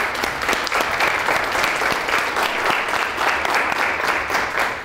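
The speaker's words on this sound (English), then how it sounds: "Let's give him a round of applause." Conference audience applause for a tech speaker, loud continuous clapping from a sizable crowd, steady and close throughout.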